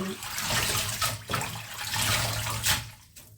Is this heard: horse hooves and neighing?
no